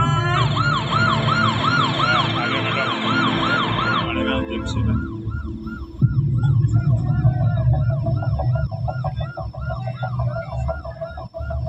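A loud wailing siren from an ambulance stuck in traffic cycles steadily up and down over rumbling traffic noise, shifting partway through to a faster, thinner warble.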